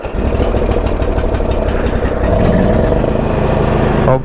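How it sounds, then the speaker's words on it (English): A Husqvarna riding tractor engine starts up and idles close by with a loud, rough, pulsing putter that rises slightly in the second half, then cuts off near the end. No one speaks. "so got the key in the ignition here, and I'm gonna start it up."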